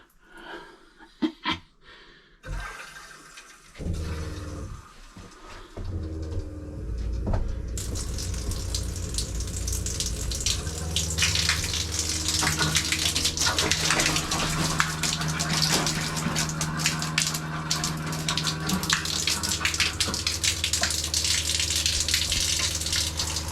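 Water gushes and rushes steadily through the shower pipes of an off-grid cabin, loud and close, after a few brief knocks and sputters at the start from air in the lines.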